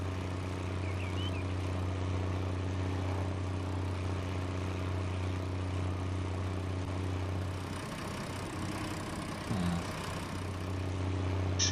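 A Farm Sim 19 tractor engine drones at a steady low idle-like hum, constant and moderately loud throughout, with a brief shift in tone near the end and no talking.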